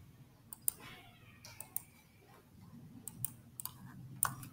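Computer keyboard keys clicking in a few sparse, sharp taps while a link is pasted into a Google Form, fairly quiet and close, with no talking.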